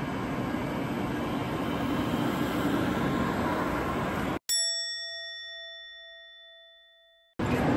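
A Shinkansen bullet train roars steadily for several seconds, then cuts to a clear, bright station chime whose tone rings and slowly decays alone before the train noise returns at the end.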